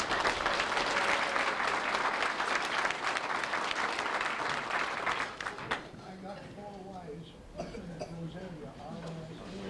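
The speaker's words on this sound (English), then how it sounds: "we want to applaud everybody because it's so important and we're so happy that you're here" An audience applauds at a 1991 coronation event, a dense, loud wash of clapping that fades after about five seconds into scattered claps under a speaking voice.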